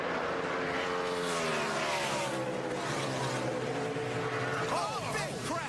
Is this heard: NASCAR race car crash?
yes